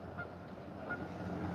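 Ducks or geese honking at a pond in a public park, a few brief calls at moderate distance over steady outdoor background noise.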